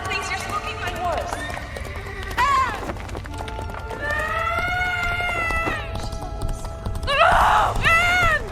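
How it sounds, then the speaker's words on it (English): Galloping horse hooves in a staged radio drama, a steady clip-clop rhythm under shouted dialogue, with a horse neighing and whinnying several times over the chase. "You're spooking my horse"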